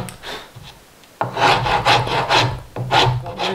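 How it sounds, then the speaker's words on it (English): Steady rasping and rubbing of a file shaping hand-made wooden window frame corners and edges, close and continuous strokes with a brief pause before resuming louder, rhythmic scraping. "Shaping and sanding done."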